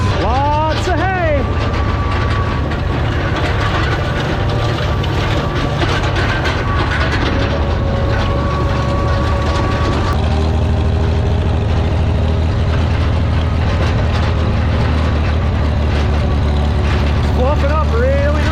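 A Farmall 460 tractor cruises in fourth gear while tedding hay in a long field, its engine a loud, steady low drone with rattling machinery, continuous and close throughout.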